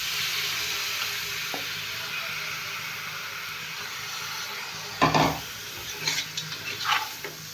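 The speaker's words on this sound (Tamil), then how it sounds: "இப்போ இந்த 1/2 கிலோ மட்டனை இதில் சேர்த்துக்கலாம்." Mutton sizzling in a pan with coriander powder, chilli powder and rock salt for a village-style mutton curry, a steady frying hiss throughout, then louder stirring clatters near the end.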